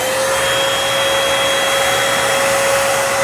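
A Eureka 3-in-1 vacuum cleaner runs on carpet with a loud, steady motor whine and broadband airflow roar, unbroken and close for about three seconds.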